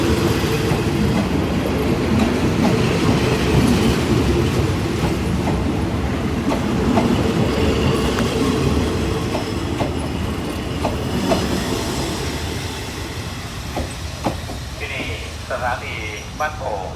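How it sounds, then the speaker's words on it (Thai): Rapid train 172 rolls through Ban Pong station on the southern railway line, its wheels clattering loudly over the rails with occasional squeals and fading near the end. A voice talks over it. "เดี๋ยวขบวนรถเร็ว ที่ 172 ผ่าน"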